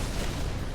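A grenade explodes in the Halo Reach video game, a dense, loud, continuous boom filling the whole short moment.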